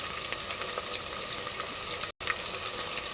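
Tomatoes being washed under running water in a kitchen, a steady splashing rush that holds throughout, close and moderately loud, broken by a split-second gap.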